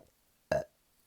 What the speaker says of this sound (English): I really need to belch.